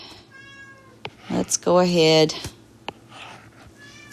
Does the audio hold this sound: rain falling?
no